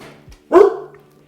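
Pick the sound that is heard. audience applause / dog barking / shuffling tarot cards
dog barking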